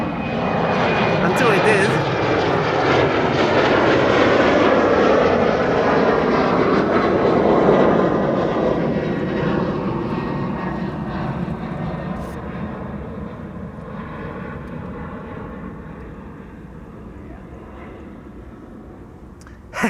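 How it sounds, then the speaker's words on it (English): An Embraer 190 jet departing Amsterdam Schiphol for Dublin, a loud close engine roar with a sweeping whine that peaks early then slowly fades into the distance, while people chat over it. "Embraer 190 to Dublin, Ireland"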